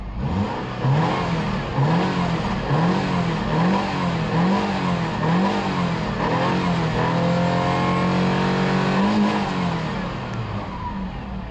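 A 2008 Subaru Forester L.L. Bean Edition engine runs steadily nearby and revs up and down in repeated smooth swells, loud and continuous with no talking.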